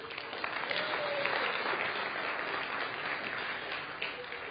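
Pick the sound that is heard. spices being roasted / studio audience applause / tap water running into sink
studio audience applause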